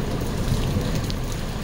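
Rain falls steadily and close by, a dense, even hiss with no voices over it.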